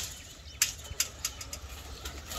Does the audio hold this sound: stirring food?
no